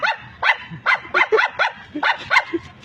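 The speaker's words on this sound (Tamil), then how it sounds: "அந்த பொம்மையன் டாக் வந்து குரல் கொடுக்குது." A small white toy-breed house dog barks in a rapid, uneven series of sharp, close yips and barks, about a dozen in under three seconds, with no talking.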